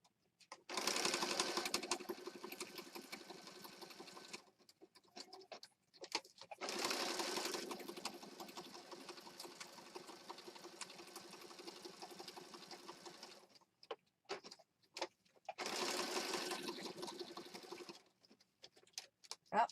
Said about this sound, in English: now we're just going to sew around the outside